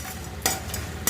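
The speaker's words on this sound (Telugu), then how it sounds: "కొన్ని పల్లీలు వేసుకోవాలి. వేసుకొని పల్లీలు కొంచెం దూరగా వేగాక" Peanuts frying and being stirred in a hot pan with cumin seeds, a continuous close sizzle broken by a few brief scraping stirs, no speech.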